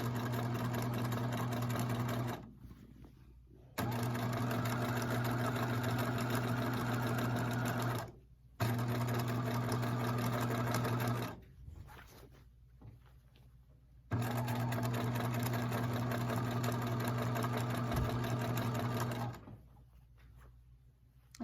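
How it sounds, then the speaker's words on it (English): A sewing machine stitches lounge pants in four steady humming runs separated by brief pauses for back stitching, close and even in tone throughout. "So I'm going to do a couple stitches, back stitch, and then stitch."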